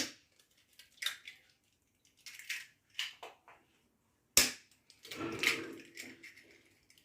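Eggs being beaten by hand in a bowl for a chocolate fondant cake batter, scattered close sloshing and clicking strokes in irregular bursts with short pauses, moderately loud with no talking.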